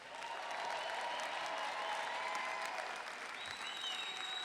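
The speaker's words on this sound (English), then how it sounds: "Let's give the graduates a round of applause" An audience at a 2018 Five Towns College graduation ceremony applauds the graduates, a dense, even wash of clapping from a large crowd that holds steady for the whole stretch.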